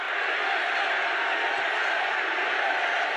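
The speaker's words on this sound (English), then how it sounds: "Listen to the roar of that crowd" Large political rally crowd in Nashville roaring continuously, a dense, loud and steady wall of cheering voices with no pauses, heard from within the arena.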